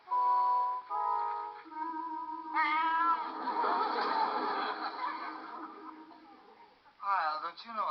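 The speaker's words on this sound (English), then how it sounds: "don't you know a cat when you see one?" A cat meows several times in a row, drawn-out and wavering, fairly close and clear, with a few short higher cries at the end and voices mixed in.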